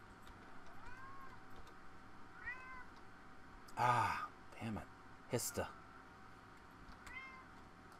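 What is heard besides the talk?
cat meowing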